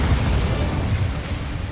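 A Bombarda blasting spell detonates in Hogwarts Legacy, a loud, close, broadband explosive boom that fills the whole moment and rumbles steadily without a break.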